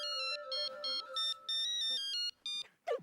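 Telephone ringtone playing a bright electronic melody in repeated short bursts of tones, loud and close, with a brief different sound at the very end.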